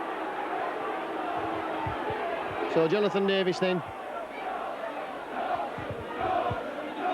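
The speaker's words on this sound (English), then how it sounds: "Can you hear what the crowd think about that?" Crowd at a 1992 Leeds versus Widnes rugby league match, a distant, diffuse roar of spectators running steadily under a commentator's voice, with a short shouted chant briefly standing out midway.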